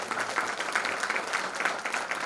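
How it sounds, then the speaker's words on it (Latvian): An audience claps steadily to welcome Per Everto from Sweden as a lecture begins, dense and even applause filling the room, fairly loud and continuous without speech. "Ar aplausiem sagaidām Pēru Everto no Zviedrijas."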